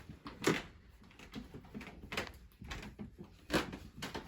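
Old wooden floorboards creak repeatedly as someone walks over them, giving a string of uneven creaks and knocks with a few louder ones, close by and with no voices.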